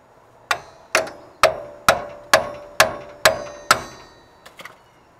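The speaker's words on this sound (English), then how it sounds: "we're going to take the pickle fork and vice grips again, and this time we're going to shove them, same thing up top, between the metal of the steering knuckle and the ball joint" Steel pickle fork hammered between a steering knuckle and ball joint on a C10 pickup's front suspension: eight sharp, ringing metal strikes at a steady pace, then two lighter taps, close and loud with no talking.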